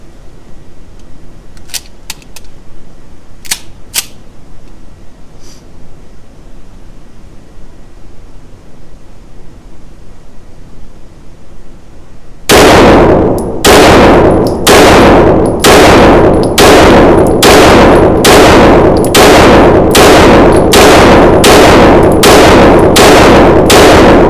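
A rapid string of loud, evenly spaced shots from a paintball marker, an Atlas Athena V2 or MPA DS9 Hybrid, fired in a 2011 accuracy comparison. The shots come after a stretch of quiet with a few faint clicks, and no one speaks.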